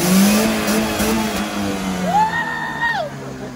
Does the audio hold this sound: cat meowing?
no